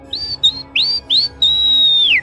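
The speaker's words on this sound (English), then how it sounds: "Then the whistling started again. Louder this time, closer, almost mocking." A series of five clear, high whistled notes, some rising and one long drawn-out tone, close and fairly loud with short gaps between.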